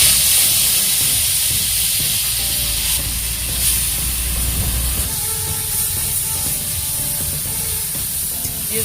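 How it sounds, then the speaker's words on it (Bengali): Mashed potato and banana flower mixture frying in a pan for village-style mochar chop, a steady close sizzle and hiss running throughout with faint stirring scrapes and no voices. "একটু ভেজে নেব"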